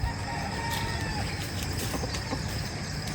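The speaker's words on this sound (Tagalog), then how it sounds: "Yung mga manok, oh. Nanggigising, oh." Roosters crowing in the morning at a campground in Mendez, Cavite, a few drawn-out calls ringing over a busy, noisy outdoor background.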